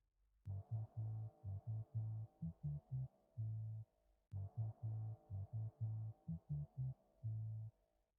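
A Roots and Dub bass loop with reverb, made in BandLab: deep, round bass notes in a syncopated dub pattern, each note with a soft reverb tail. The four-second phrase plays twice on its own.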